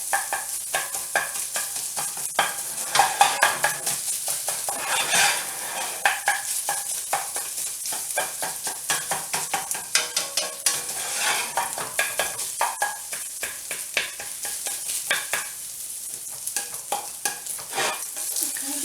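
Sausage browns in a frying pan for a zucchini sausage and rice casserole, a steady close sizzle broken by frequent stirring scrapes and clicks of a utensil against the pan, with no talking.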